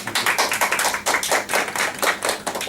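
A Toastmasters club meeting audience claps steadily in a dense, even patter of overlapping hand claps that holds for a few seconds, close and fairly loud with no voices on top.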